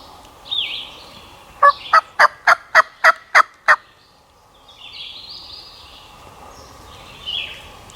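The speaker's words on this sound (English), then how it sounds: "He just gobbled and I answered him." A wild turkey in Alabama gobbles in a quick burst of about eight rattling pulses, fairly close and clear, with softer bird calls before and after in a quiet outdoor setting.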